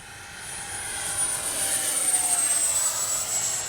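A Freewing T-33 80mm electric ducted-fan RC model jet flies at full speed, its loud, steady high-pitched whine rising and then sliding down in pitch as it passes overhead outdoors.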